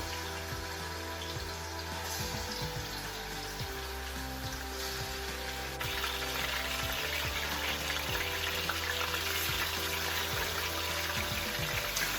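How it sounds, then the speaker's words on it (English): Pork dropped into hot oil in a pot for Jamaican-style stew sizzles and crackles steadily at close range, growing busier midway, with faint stirring and no voices. "That amount of oil in my pot, and I'm gonna just put my pork in."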